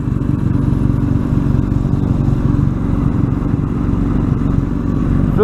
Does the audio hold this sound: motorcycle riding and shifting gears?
yes